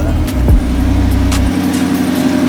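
Supercar engine running, a deep steady rumble with a brief rev burst early, then settling to a smoother idle hum, close and loud.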